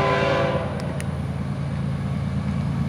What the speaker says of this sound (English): FEC101 train.